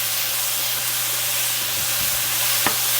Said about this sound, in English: we're just going to let this cook down until the onions become nice and clear and the peppers are nice and soft